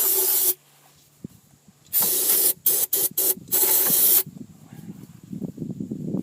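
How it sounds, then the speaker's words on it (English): Cleaning spray aimed at the front Dana axle gears of a 1998 Jeep Cherokee, heard close up as a long hissing burst, a short puff, then a string of quick bursts and another sustained hiss. "And just start spraying."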